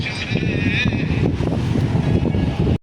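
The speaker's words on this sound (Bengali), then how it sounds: "খুব মিষ্টি একটা বাতাস হইতেছে" A breeze blows across a sea jetty, rumbling and buffeting the microphone in a steady, close roar that stops abruptly at the end.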